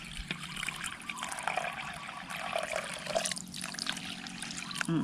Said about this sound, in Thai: เดี๋ยวเราเทน้ำลงไปเลยค่ะ ใส่น้ำลงไปนะคะ ให้ท่วมข้าวเลยค่ะ